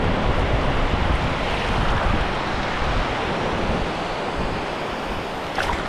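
Ocean surf rolls onto a beach where people are fishing for whiting, a constant broad wash of breaking waves with wind buffeting the microphone, loud and close throughout.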